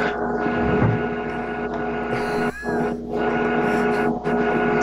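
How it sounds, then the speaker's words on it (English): A home printer runs somewhere behind the room, giving off a steady electrical hum with a faint whirring layer and a brief rising whine near the middle, continuous and moderately loud with no talking. "My printer's going."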